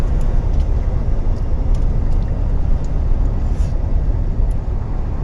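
A truck drives along a mountain road in Kyrgyzstan or China near Naryn and Kashgar, heard from inside the cab as a constant loud low engine and road rumble.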